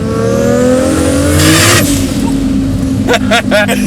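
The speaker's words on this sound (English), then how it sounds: "So you can actually rev it out a little bit." A 750 hp big-turbo 2JZ Toyota Supra engine revs hard up close on a mountain road, rising pitch sweeping upward with a tire-like squeal midway, then choppy throttle blips near the end.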